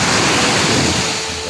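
Strong ocean surf rolling onto a sandy beach on the West Philippine Sea, a loud continuous wash of crashing water mixed with wind noise, close to the microphone.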